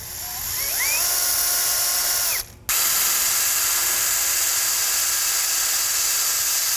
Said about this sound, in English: I'm drilling this hole oversized